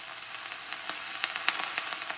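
Russet potatoes pan-frying over low heat give a steady, gentle sizzle with scattered crackles and pops, close and moderately quiet, with no voices.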